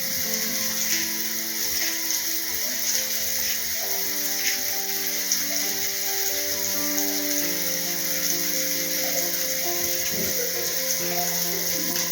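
Surmai fish fried on a hot tawa, giving a continuous close sizzle that holds steady throughout, with a faint tonal hum running underneath and no speech.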